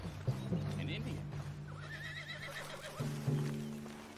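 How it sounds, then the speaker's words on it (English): A spooked horse whinnies and neighs in the Western video game Red Dead Redemption 2, two loud neighing calls with hoof clip-clop nearby, while people talk over the scene. "What's got this horse spook,"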